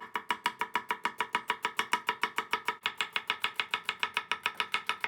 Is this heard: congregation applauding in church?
no